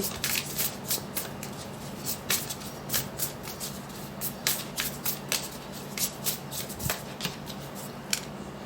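Tarot cards being shuffled by hand at close range: a steady run of soft, papery riffles and flicks, repeating rhythmically with no voices over them.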